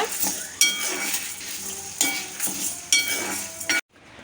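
Chana dal, urad dal and dried red chillies roasting in a pan are stirred with a utensil, giving scraping clinks and soft sizzle in bursts before the sound cuts off abruptly near the end.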